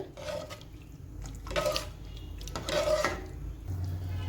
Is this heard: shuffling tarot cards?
no